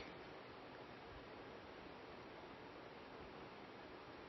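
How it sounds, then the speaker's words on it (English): A creek flows steadily nearby at night, giving a soft, even rush of water that stays constant and unbroken throughout, faint and alone with no voices. "the sound of the creek"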